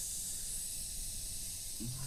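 A leaking valve in a well hisses in a steady, airy stream, fairly close and continuous, with a brief low knock near the end.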